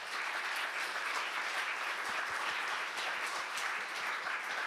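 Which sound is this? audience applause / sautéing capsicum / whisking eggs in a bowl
audience applause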